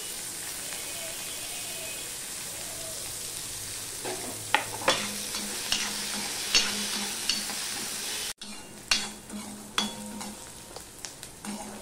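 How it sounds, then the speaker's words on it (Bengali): Onions frying in a pan, sizzling steadily while a spatula scrapes and stirs in a run of sharp clicks and knocks, close and fairly loud, with a brief cut partway through. "পেঁয়াজটাকে একটু ভালো করে ভেজে নিতে হবে।"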